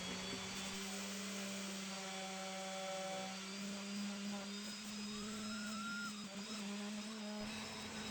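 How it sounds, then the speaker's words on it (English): A power sander works pallet wood with a steady, loud whir and a constant tonal hum, sustained without pause throughout. "Bit of sanding, and the job's done."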